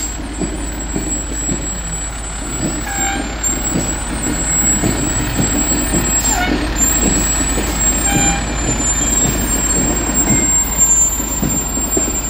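Pleasantville FD fire engine 155 rolls by in a parade, a steady loud diesel engine rumble with low idling throb throughout and a few faint higher tones above it.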